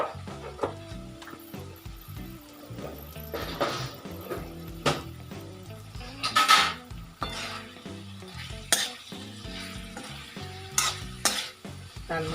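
Red chili powder is stirred into carrot and capsicum sabzi frying in a pan: repeated scraping stirs and a steady sizzle run through the whole stretch, with no talking.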